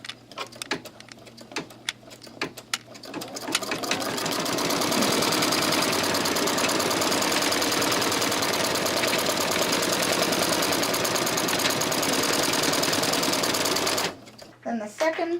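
An embroidery machine runs a placement stitch for a wristwatch pincushion design, its rapid steady needle chatter loud and continuous for about ten seconds, starting after a stretch of talk and stopping abruptly near the end.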